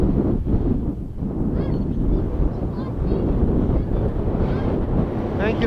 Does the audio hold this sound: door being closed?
no